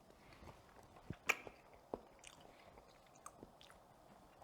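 Soft, close chewing and biting sounds as someone tastes a classic Olivier salad, with a few faint crunchy clicks over quiet room tone.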